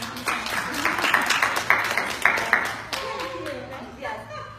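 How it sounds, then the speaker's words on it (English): Clapping from a gathered audience greets Madeline at a talk about media exposure, a burst of hand claps that swells and fades over a few seconds alongside a murmur of voices. "let's give Madeline a round of applause"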